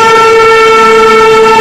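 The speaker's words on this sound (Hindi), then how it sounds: "सियालदा का Wave 7 लोकोमोटिव है।" A Sealdah-based WAP-7 electric locomotive sounds a loud, steady horn tone held close by, with no other sounds over it.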